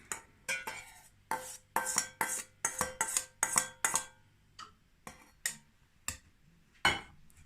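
A metal pot and utensils clink and clatter in a quick irregular series of sharp knocks while straining raspberries, close by, with brief pauses between handling sounds.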